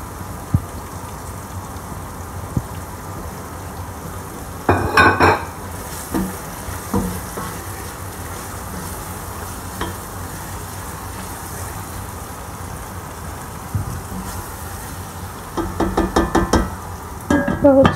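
Tomatoes stir-fry in a pan with a low, steady sizzle. Bursts of loud clattering scrapes from a spoon against the pan cut in around the middle and again near the end.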